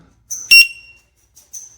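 An iFlight finder drone beeper emits a couple of shrill high-pitched electronic beeps with a click, close and loud, then a fainter chirp as it switches off.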